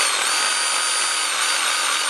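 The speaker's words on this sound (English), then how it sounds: "So again, I'm running the drill bit in reverse." A power drill spins a bit in reverse through holes in ABS plastic, giving a steady, close, continuous high whir with no pauses.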